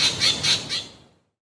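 A kite (cheel) gives a series of four shrill, high-pitched cries in quick succession, loud and close, fading out into silence.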